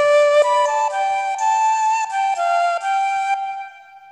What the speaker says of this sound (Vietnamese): Tiếp theo Tèo sử dụng đó là tiếng sáo.